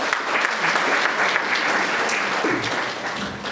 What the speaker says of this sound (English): And let's give a big round of applause to Karishma